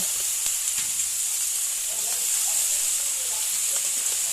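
Onion stalks fry in hot oil with salt and turmeric, giving a steady close sizzle and hiss with faint stirring scrapes throughout.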